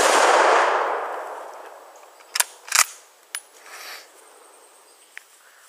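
A Mosin Nagant M91/30 rifle fires outdoors: a loud, sharp report whose echo rolls away over about two seconds, followed by a few distinct metallic clacks and clicks.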